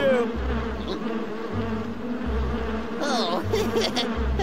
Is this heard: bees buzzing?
yes